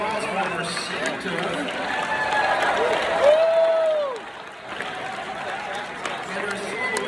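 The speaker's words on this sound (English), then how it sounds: "Let's take another round of applause for Santa." Audience applause at a TubaChristmas holiday concert greets Santa, a steady crowd clapping that holds for several seconds, with voices and cheering mixed in and a brief tonal whoop partway through.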